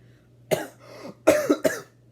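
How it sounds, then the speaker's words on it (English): Three short, harsh coughs in quick succession, close and clear against a quiet background with a faint low hum. "we're already off to a great start with a cough"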